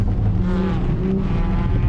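Loud, steady engine drone from a tuned Honda Civic in traffic, a low rumbling tone that holds throughout with no clear rev rise, close and continuous.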